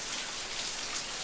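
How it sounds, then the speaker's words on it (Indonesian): Heavy rain pouring down outdoors, a dense, steady hiss of drops drumming on surfaces, loud and continuous with no voices. "Ini ya hujan deres"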